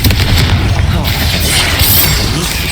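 A Confringo fire spell explodes in Hogwarts Legacy, a loud, continuous booming burst of blasts and crackling rumble that fills the whole moment.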